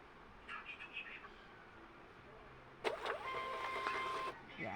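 A Bluetooth waybill printer's mechanical whir starts abruptly and runs steadily for about a second and a half, with a high whine layered over it, after quiet room noise.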